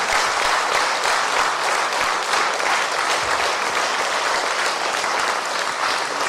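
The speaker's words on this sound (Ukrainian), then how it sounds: "Аплодуємо, той, бачить Ісуса." A hall full of people applauds at a centenary commemoration of a patriarch, a dense, steady clapping that holds loud and even for several seconds with no talk over it.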